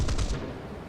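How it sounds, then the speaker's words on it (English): A short burst of rapid aircraft machine-gun fire from a Typhoon Mk1b in War Thunder, loud and close at first, then trailing off into a low rumble within a second. "So I take a few shots trying to guess at where the guy is going"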